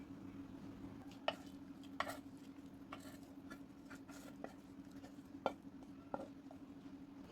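A cooked onion-tomato chutney mixture is scraped from a pan into a dish, with faint, scattered clinks and scrapes of a spoon against metal over a low background hum.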